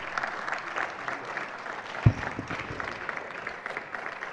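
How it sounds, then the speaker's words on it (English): A round of clapping at a festschrift ceremony for an honoree, moderate and steady from a seated crowd, with one sharp thump partway through and no speech over it. "A round of applause for Dr. Ruben Abati."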